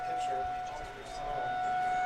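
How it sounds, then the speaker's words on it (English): A civil defense tornado siren sounds its noon Saturday test near a baseball field, a steady sustained tone holding through the moment, fairly distant and even. "So I think they're going to wait till the siren is done."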